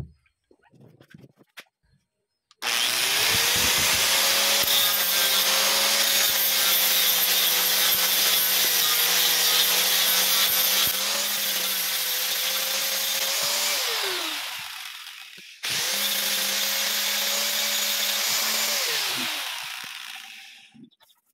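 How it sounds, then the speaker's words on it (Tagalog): An angle grinder whines loudly as it smooths a coconut shell, a long steady grinding run that winds down, then a shorter second burst that also spins down to silence. "Kinisin mo natin siya ng angle grinder."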